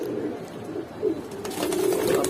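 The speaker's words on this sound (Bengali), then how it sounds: "বিগ সাইজের কবুতর" Big-sized pigeons at a pigeon seller's stall cooing in soft, low, repeated murmurs, close and steady, with faint background noise and no talk.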